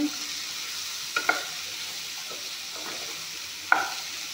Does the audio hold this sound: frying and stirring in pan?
yes